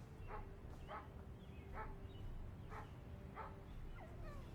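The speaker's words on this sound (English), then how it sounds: "I hear a dog." A dog in the zombie survival game Project Zomboid barks in short repeated yips at a steady rhythm, sounding somewhat distant and faint over a low background rumble.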